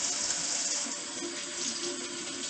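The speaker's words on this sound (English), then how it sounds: "Next, before you do anything, you want to wash it." A kitchen tap runs steadily as vegetables are rinsed under it, producing a continuous close hiss and splash of flowing water with no pauses.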